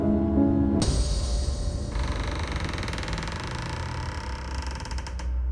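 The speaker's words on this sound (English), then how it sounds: "he started to hear the stairs creak outside, as if someone were walking upstairs" A drawn-out wooden creak, like stairs groaning under weight, with a rattling mechanical texture that shifts partway through and carries on steadily.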